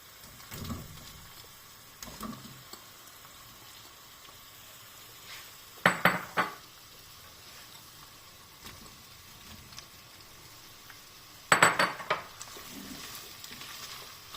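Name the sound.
meat and sausages stewing in a pot for solyanka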